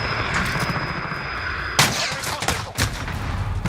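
Gunfire from Call of Duty Modern Warfare in a Gunfight match, a sharp loud burst of shots followed by a couple of further cracks over steady game ambience.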